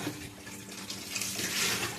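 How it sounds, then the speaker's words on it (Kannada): A steady stream of water splashes and gurgles close by into a mixer jar holding tomato and other ingredients for a mackerel curry paste, running continuously throughout. "ಸ್ವಲ್ಪ ನೀರು ಹಾಕುವ"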